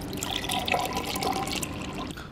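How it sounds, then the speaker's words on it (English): Water drains steadily from fresh tofu being pressed under pressure, a soft continuous trickle and dripping, faint and close, with no talk over it. "You see the water is now draining like really rapidly."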